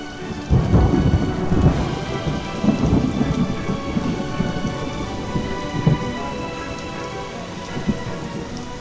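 A storm with heavy rain pouring steadily while thunder rumbles and cracks repeatedly, loud and close, with no voices.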